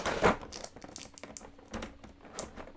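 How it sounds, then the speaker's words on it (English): Sellotape being pulled off a board game box, heard as quiet crinkly tearing and crackling, with one louder rip near the start and sparse scratchy bits after. "I have not previously pulled off the sellotapes. This might make a bit of noise"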